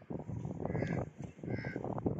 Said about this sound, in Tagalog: Ang daming mga ibon. Nag-aaway yun.